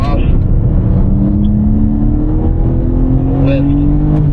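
Loud, close engine of a BMW M4 on the Desert Palm Circuit rising steadily in pitch as it powers out of a corner, with a person talking over the sound.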